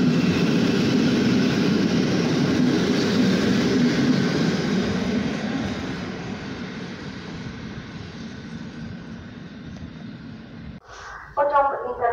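A train rumbles steadily past a platform at Łowicz Główny railway station, a loud broad roar that slowly fades over several seconds before brief sharper clanks and squeals near the end.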